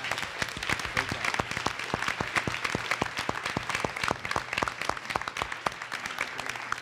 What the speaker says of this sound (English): Can we get just a round of applause for Errol Louis